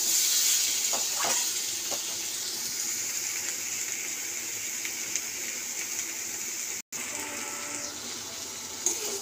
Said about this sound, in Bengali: তো আমি তার আগে 4টে কাঁচা লঙ্কা আর টমেটোটা দিয়ে দেবো। তো এটা একটু আদা রসুনটা ভালো করে কষা হয়ে যায়